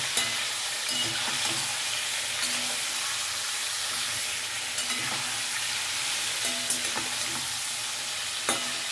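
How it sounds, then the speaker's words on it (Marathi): Shivada fish pieces fry lightly in hot oil in a pan for a fish curry, giving a steady close sizzle and hiss with occasional louder crackles and stirring sounds. "ह्या पद्धतीने मी हलकासा फ्राय करून घेणार, म्हणजे याचा कच्चा वास निघून जाईल।"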